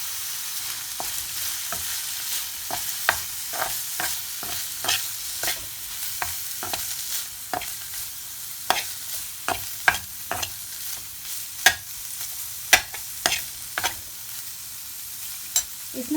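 A spoon stirs chicken pizza roll filling in a hot pan, giving repeated scraping clinks at an uneven rhythm over a soft, steady sizzle, close and fairly quiet with no voices.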